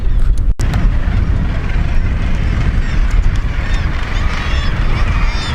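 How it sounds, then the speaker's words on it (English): A large crowd of birds calls at once, loud geese honking over a dense, continuous clamor of other fowl, close and busy throughout with no speech. "There's a lot of birds here. Tons of birds here."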